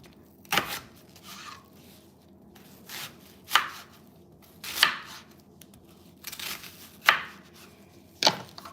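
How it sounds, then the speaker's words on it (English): A knife chopping an onion on a board: about eight separate crisp thuds in an uneven, unhurried rhythm, close up and fairly quiet, with no voices. "Let's chop the other onion."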